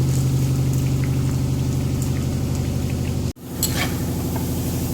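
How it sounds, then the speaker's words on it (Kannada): Methi leaf vadas deep frying in hot oil give a steady, close, dense sizzle and bubbling, briefly cut off near the end before the crackle resumes; no one speaks. "ಇದು ಎಣ್ಣೆಲಿ ಹಾಕಿರೋದು ಡೀಪ್ ಫ್ರೈ ಮಾಡ್ತಾ ಇರೋದು"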